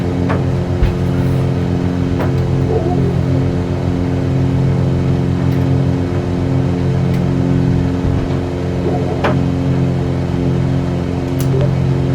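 The piston engine of a Cessna 182RG in Microsoft Flight Simulator 2020 drones steadily and loudly at takeoff power throughout, with a constant low, even hum and no gaps.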